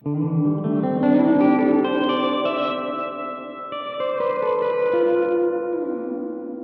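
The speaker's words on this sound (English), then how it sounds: "it's a variation of a cavern reverb, because it has that kind of sense of distance to it." Guitar played through a Donner Verb Square pedal on a cavern reverb setting, sustained chords washing into a long, distant-sounding echoing tail that keeps ringing and swelling rather than decaying quickly.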